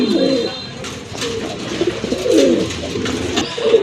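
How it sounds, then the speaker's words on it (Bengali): A pair of fancy pigeons at a pigeon sale cooing loudly and close, with repeated throaty, rolling coos running almost without break. "আরেক জোড়া কবুতর দেখেন"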